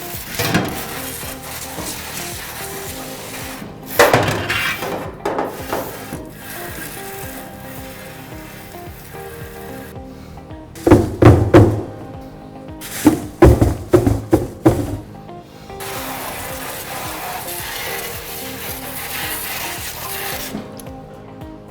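Food baskets from a waste collector's trough are dumped and knocked against a trash can, giving a few loud clattering bursts of repeated knocks over a steady background hum, with no talk.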